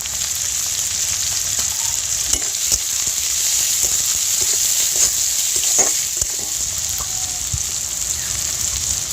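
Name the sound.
chopped tomato frying in a pan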